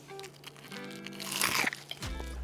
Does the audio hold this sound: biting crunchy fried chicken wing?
yes